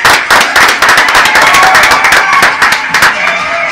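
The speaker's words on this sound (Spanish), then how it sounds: "vamos a recibir con fuerte aplauso al indio con nosotros" Loud, close audience clapping welcomes a guest onto a Dominican entertainment show, a brisk, uneven patter of hands with a few sharp bursts, steady across the whole stretch.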